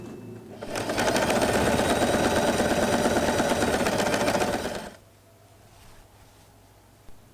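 Electric sewing machine stitching the seam of a fabric scrunchie, a steady fast whirring run of about four seconds, close and loud, then stopping into quiet room noise with no talking.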